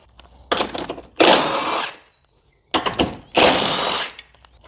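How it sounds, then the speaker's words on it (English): Two 15mm bolts being removed from the engine mount of a Ford 2.0 during a water pump replacement, with two close, loud bursts of power-tool whirring and ratcheting separated by a short pause. "I'm gonna remove those two 15mm bolts."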